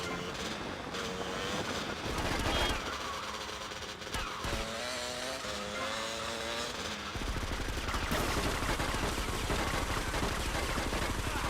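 Gunfire in the video game GTA Vice City, rapid bursts of automatic fire mixed with engine and game noise, loud and continuous throughout with no talking.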